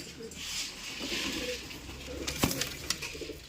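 A pigeon cooing softly nearby in a low, rolling murmur, joined by a brief sharp tap and some rustling toward the end.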